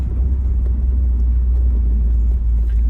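A numbers-matching 1972 Corvette LT1 Roadster with a 4-speed runs at a steady idle, its deep engine rumble loud, close and unbroken throughout.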